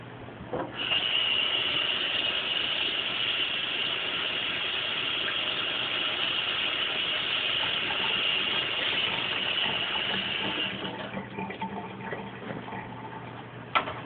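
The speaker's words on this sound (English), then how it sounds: "Matter of fact, I'm going to pour a little bit of this off." Liquid being poured off a cooking pan of food that was half covered in liquid, leaving it to sear: a steady hiss and splash for about ten seconds, then tapering off, with no talking.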